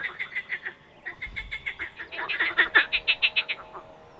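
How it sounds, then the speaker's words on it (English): Frogs croak loudly across a lake, a rapid series of rhythmic, pulsing calls that swell in volume and then break off briefly before starting again. "I zoomed in with the camera, and they're frogs."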